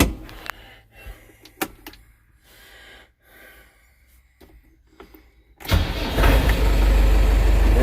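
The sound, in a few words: small tractor engine running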